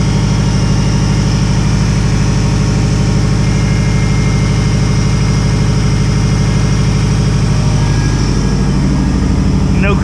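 A hybrid EJ 2.0/2.5 engine in a Subaru WRX idles loud and steady on its first start with cold-start enrichment, a dense continuous rumble that shifts slightly near the end, with voices faintly underneath.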